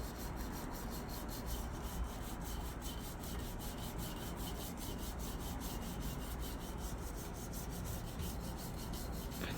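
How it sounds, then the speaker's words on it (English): Grimy patio furniture scrubbed with soap and vinegar, a steady rapid back-and-forth rubbing rasp that continues without pause, close and fairly loud, with no talking. "Scrubbing that kinda helped."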